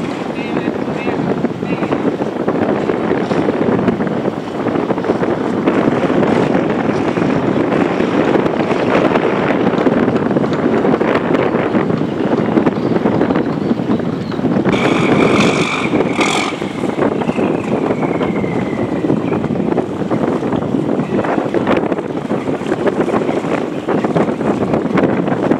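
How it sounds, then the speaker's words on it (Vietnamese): A Komatsu 750 horsepower engine on a Phú Yên purse-seine fishing vessel drones through its exhaust, a loud, continuous rumble mixed with wind buffeting, with a few brief high chirps midway. "Tiếng bô của Komatsu 750 mã lực nổ nghe quá đã."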